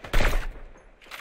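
Turret gunfire in the Fortnite video game sounds as a short, loud burst of rapid shots that fades within about half a second, followed by a fainter echo.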